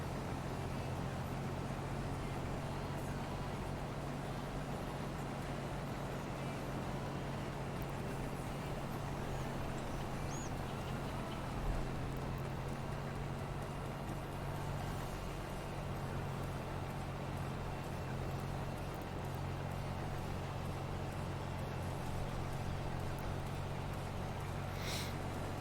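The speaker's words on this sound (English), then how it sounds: "I do kind of like the sounds of the tractors working" Tractors work in Farming Simulator 22 with the game volume turned down, giving a faint, steady, low engine drone that hums on without change.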